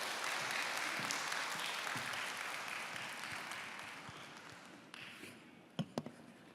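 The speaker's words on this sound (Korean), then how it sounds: "우리 조승호 목사님 나오실 때 큰 박수로 모시도록 하겠습니다" A church audience applauds to welcome a pastor to the stage, a dense, full round of clapping that slowly thins and fades, ending with a few sharp knocks and thumps.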